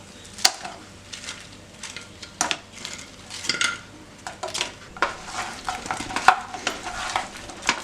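Sauce stirred into fried chicken in a pan for Korean fried chicken: repeated scraping and clinking stirs with a soft sizzle underneath, close and moderately loud, no talking.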